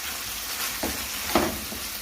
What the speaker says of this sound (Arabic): نضيفوا الدجاج، نخليه يتقلى جيدا